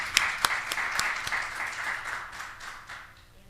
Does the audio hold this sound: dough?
no